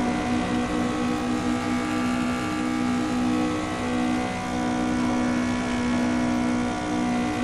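A Lada 2101 engine revs steadily in the Assetto Corsa racing game, a loud, sustained buzzing drone with harmonic whine that holds at high revs with slight surges, heard alone without talk.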